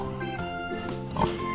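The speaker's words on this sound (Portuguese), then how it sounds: "Esse é o som do porco!" A pig oinks and grunts in short snorting bursts over steady background music, fairly close, with a stronger grunt near the end.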